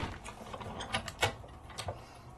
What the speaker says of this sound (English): Sizzix little boutique machine that just does embossing.